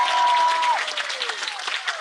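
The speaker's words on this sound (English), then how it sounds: "So please give a big round of applause to Nilamani, Rangi Devi, Suchi Rani, Madhav" Festival audience at a Gurukul in Watford breaking into sustained, dense applause, loud and close throughout, with a brief whistle-like tone early on.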